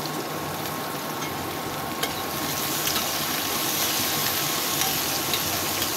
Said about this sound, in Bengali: আমি একে একে মশলাগুলো কড়াইয়ে দিয়ে মশলাটা কষানোর চেষ্টা করছি